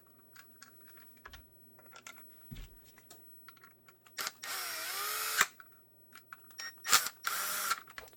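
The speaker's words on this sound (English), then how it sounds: "even though this drill kept going" A power drill driving screws while making a holster whirs in two loud bursts, its pitch sliding as the motor spins up and slows, with clicks and taps in the quieter gaps between.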